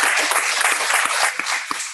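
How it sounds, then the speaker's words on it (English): An audience at a Licensed Practical Nursing graduation ceremony claps together in a brief burst of lively applause that tapers off toward the end. "help me give them a round of applause."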